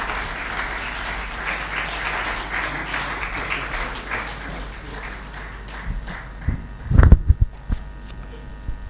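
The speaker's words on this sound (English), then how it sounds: "Please, another round of applause for him." Applause from an audience at an Institute of Capital Market Registrars event in Nigeria, a steady crowd clapping that runs throughout and rises into a few louder, sharper claps near the end.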